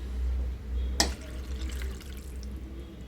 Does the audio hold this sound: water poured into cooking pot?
yes